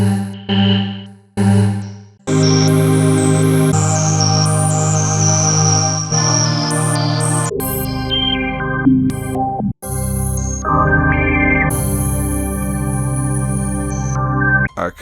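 A Roland Zenology VST software synthesizer plays sustained, layered tones while its filter sweeps, giving hissing and ringing resonance. The tones are loud and continuous with a few abrupt cuts and shifts in pitch and texture, and no voices are heard.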